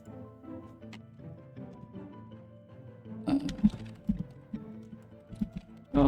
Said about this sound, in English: Sorry about the typing noise.